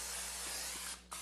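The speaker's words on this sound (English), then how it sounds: "cooking spray, so just kind of lightly do the bottom" A steady hiss of aerosol spray runs almost continuously for about a second, stopping briefly near the end and then resuming.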